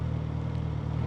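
Suzuki GSX-S1000 motorcycle pulling away at idle on its low RPM assist with the clutch released and no throttle, giving a steady, close low engine rumble that holds an even level throughout.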